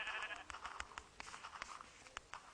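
Repeated sheep bleats from Minecraft survival mode on Android, a wavering bleat followed by clicky, tapping game sounds scattered at an uneven rhythm, close and moderately loud, with no talking.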